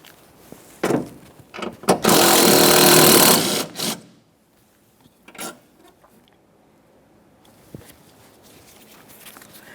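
A power tool drives out the 10mm mounting bolts on the wiper motor of a Toyota Sienna, giving short whirring bursts and one sustained loud run of about two seconds, then quieter clicks and handling noises.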